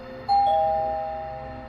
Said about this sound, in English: The guy rang the doorbell one more time.